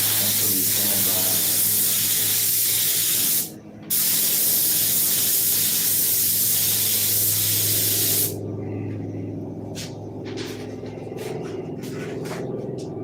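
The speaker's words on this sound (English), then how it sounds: "You can see the overspray in the air." Spray gun painting, a loud continuous hiss of air and paint that cuts out briefly, resumes, then gives way to short intermittent bursts of spray.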